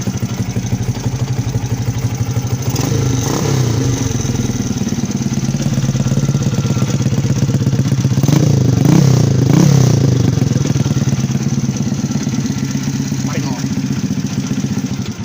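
A GPX Demon 125 motorcycle, left unstarted for about a month, catches first try and idles with a steady, loud, close thrum, briefly swelling in the middle while someone talks over it.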